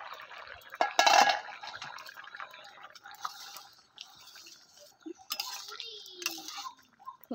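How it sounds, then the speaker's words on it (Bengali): A cooking pot lid lifted during a cucumber and fish curry preparation, a sharp metallic clank near the start, then quieter clinks and scrapes of kitchenware with faint bubbling in a quiet kitchen. "এবার ঢাকনাটা তুলে নিচ্ছি।"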